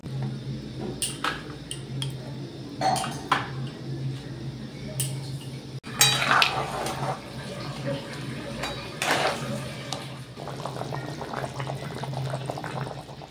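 Fish pieces go one by one into a pot of simmering sour fish curry, each drop making a splashy plop over continuous bubbling, with an occasional clink of the pot.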